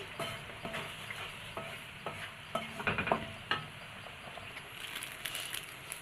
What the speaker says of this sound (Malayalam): ഒന്ന് തിളച്ച് വരട്ടെ തിളച്ചൊന്ന് കുറുകി വരട്ടെ